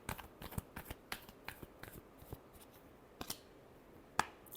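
Tarot cards are shuffled by hand in a final shuffle, giving a string of soft, quick riffles and flicks that sound close by and fairly quiet, with no talking.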